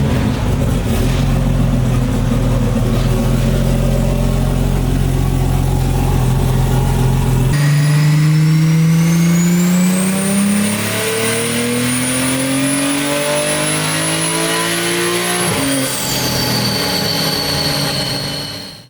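A tuned BMW M240i G42 runs on petrol during a dyno pull. The engine drones loud and steady, then revs hard with a climbing pitch and cuts off sharply near the end.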